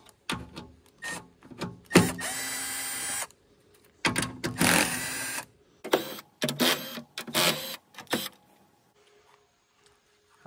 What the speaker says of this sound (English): my buddy sent me this new Milwaukee screwdriver. Yeah, that thing's working good.